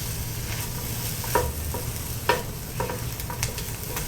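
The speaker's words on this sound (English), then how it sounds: "It is taking a really long time to fry, even though I have put this on the highest setting." Fried rice sizzles steadily in a large pan on the highest heat, a constant close frying hiss broken by a few sharp scrapes and clinks of a utensil stirring.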